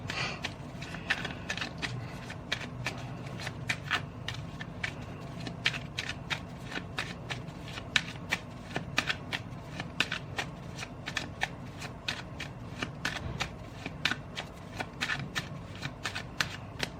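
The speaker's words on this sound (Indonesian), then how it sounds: "Oke, aku shuffle dulu kartunya." A deck of tarot cards is shuffled nearby in a long run of quick, crisp riffling flicks and soft slides, steady and fairly quiet with no talk.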